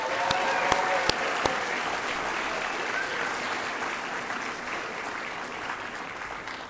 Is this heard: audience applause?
yes